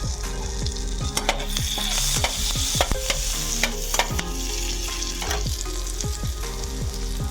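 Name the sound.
sliced garlic frying in butter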